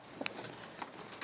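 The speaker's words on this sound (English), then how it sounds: "the wild birds keep coming and coming" Wild pigeons cooing faintly in a barn, with soft distant coos and a few light clicks over a hissy background.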